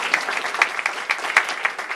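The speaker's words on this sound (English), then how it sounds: "let's clap for Stan" An audience applauding for Stan at a basketball coaching talk on recruiting, a lively patter of many hands with distinct sharper claps popping out of the mix, fairly close and loud, no talking.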